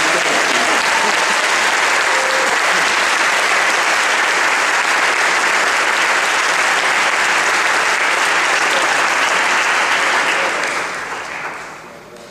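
Audience applause for a musical class at a Dexter High School orchestra spring concert, loud dense clapping from a large crowd holding steady, then tapering off near the end.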